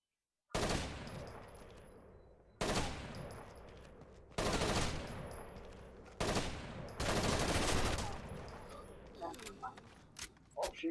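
Gunfire in the shooter game Rainbow Six Vegas 2, several loud bursts of automatic fire separated by short pauses, each starting sharply and fading, followed by a few lighter scattered shots.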